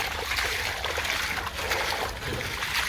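Water being drained out of a pool, a continuous rushing splash and trickle, fairly close and steady, with faint voices in the background.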